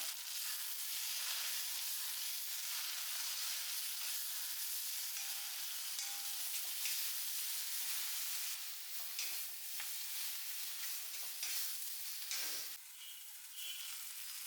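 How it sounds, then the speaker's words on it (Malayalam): Chili, turmeric and coriander powder sizzle steadily in hot oil in a pan for a chicken curry, a continuous close frying hiss with occasional scrapes and stirring clatter and no voices. "അത് നല്ലപോലെ ഇനി പൊടികളൊക്കെ ഒന്ന് വഴറ്റിയെടുക്കാം."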